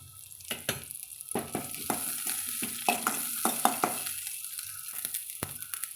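Shallots and curry leaves sautéing in a pan, a close sizzle broken by repeated sharp scrapes and knocks of a spoon stirring against the pan, no talking.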